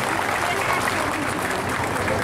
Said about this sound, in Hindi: आप सब से निवेदन की ताली के गड़गड़ाहट से होकर जन्मदिन के बधाई।